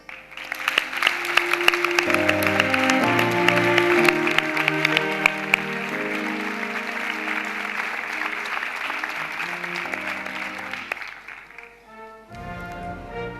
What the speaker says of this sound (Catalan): T'acomiadem amb el més fort dels aplaudiments.